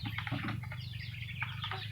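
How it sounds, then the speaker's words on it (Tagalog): Chickens cluck and murmur close by over a low steady hum, several soft calls overlapping throughout, on a small farm. "Ganyan, nakarami aking mga manok."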